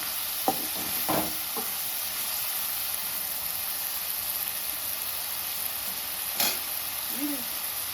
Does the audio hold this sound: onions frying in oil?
yes